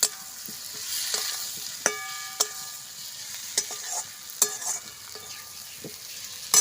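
Fried potatoes stirred into a snakehead fish curry in a pan, a soft sizzle under repeated scraping and clanking stirs of a spatula, spaced irregularly, nobody speaking.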